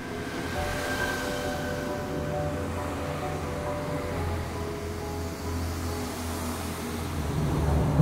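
Inside a moving commuter train, a steady rumbling hum of wheels and carriage runs continuously with faint tonal whine, swelling slightly louder at the end.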